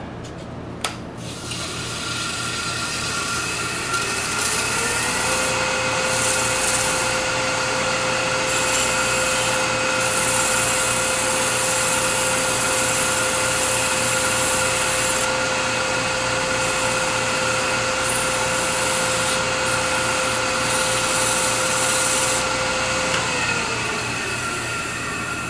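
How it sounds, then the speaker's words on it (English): A wooden ring box is sanded on a running woodturning lathe, a steady loud whirring motor tone under a continuous abrasive rasp that holds for the whole stretch with slight rising and falling friction and no talking. "I'll sand the outside."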